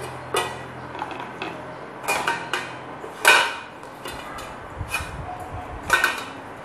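Bruised lemongrass stalks and snails are dropped into a metal steamer pot, making a series of irregular clinks, clatters and knocks, some sharp and close, scattered over several seconds in a quiet kitchen.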